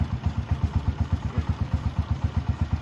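A Honda Master 125cc motorcycle engine idles smoothly with a steady, rapid low putter, close by and even in rhythm throughout.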